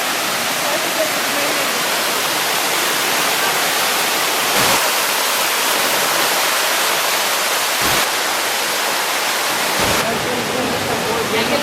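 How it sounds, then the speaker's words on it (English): Steady, full roar of a waterfall at Plitvice National Park, Croatia, dense rushing water close by, with a few brief louder surges. "This is total waterfall heaven."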